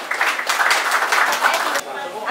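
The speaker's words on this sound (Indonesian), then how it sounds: "Tepuk tangan buat Pak Sugiarto." An audience at a focus group discussion in Winong district claps, a brief burst of dense, moderately loud applause that stops abruptly after under two seconds, leaving quiet room tone.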